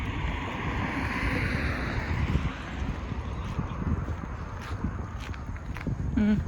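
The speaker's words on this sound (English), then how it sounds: "Here's some wind, sorry." Wind buffets the microphone with a heavy, continuous low rumble during a walk through downtown Winnipeg near Osborne Village, with faint footsteps underneath.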